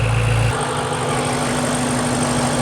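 A BMW M5 Touring's engine idles warm with a steady, deep rumble; a stronger low burst in the first half second settles into an even, continuous hum with no talking.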